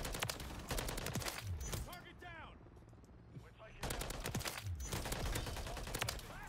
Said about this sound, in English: I still think this is the best assault rifle in the game